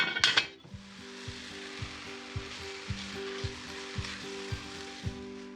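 Italian soffritto vegetables cook in a lidded Dutch oven, a soft steady sizzle with a low rhythmic ticking or bubbling pulse about twice a second, after a brief clatter at the start.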